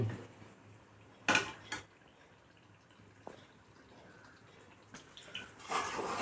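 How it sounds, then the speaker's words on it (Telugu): A spoon stirs curd into an eggplant and potato masala curry in a metal pot, giving a few scrapes and clinks against the pot, quiet and close, with pauses between strokes. "పెరుగు అనేది వేసేసుకున్న తర్వాత ఒకసారి మొత్తం కలిపేసుకున్నాను"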